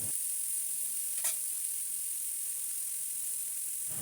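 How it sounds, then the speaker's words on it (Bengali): Cauliflower pieces seasoned with salt and turmeric fry in oil, giving a steady, close sizzle with a brief stir partway through and no voices. "এরপর আমি লবণ আর একটু হলুদ দিয়ে ফুলকপিগুলোও কিন্তু ভেজে নিচ্ছি তেলে"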